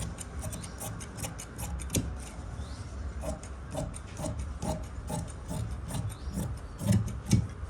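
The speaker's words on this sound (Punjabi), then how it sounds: "ਇੱਥੇ ਰੱਖ ਕੇ ਇਹਦਾ ਆਪਾਂ ਕੱਟ ਕਰ ਲੈਣਾ ਇਹ ਆਪਣੀ ਬਾਹਾਂ ਦੀ ਕਟਿੰਗ ਹੋ ਜੂਗੀ" Scissors cut through suit fabric along a marked line for the sleeves, giving repeated short rasping snips and rustles of cloth close by, with no talking.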